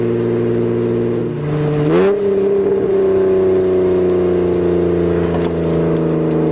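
Revs from a modified car engine climb sharply in pitch, then hold at a steady higher idle-like drone, loud and close with no talking.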